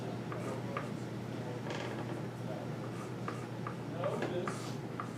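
A marker or pen scratches out an algebraic expression by hand in short strokes and taps, partly under a voice explaining the math.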